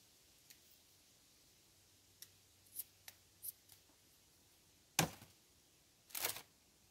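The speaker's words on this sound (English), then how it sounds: "Just grab my scissors." A few sharp snips and short crisp cuts of scissors through garden plant-support rope, scattered over quiet, with two louder cutting sounds near the end, close by and alone.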